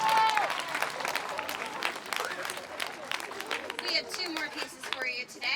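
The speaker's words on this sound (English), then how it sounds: "Let's give everybody a round of applause for being such great soloists." An audience at an outdoor elementary school concert applauds the school band's soloists, with a dense, moderately loud patter of clapping that holds steady for several seconds, mixed with crowd murmur and some voices.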